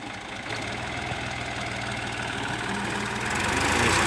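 A tractor engine runs steadily for cutting a sheesham tree, a continuous low rumbling drone that grows slightly louder toward the end, with no voices over it.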